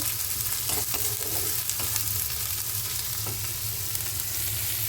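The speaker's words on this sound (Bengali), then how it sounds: "রসুনের সাথেই মাছটাকে হালকা হালকা ভেজে নেব" Dried kachki fish fries lightly with garlic in a pan, a constant close sizzle and crackle with occasional stirring scrapes throughout.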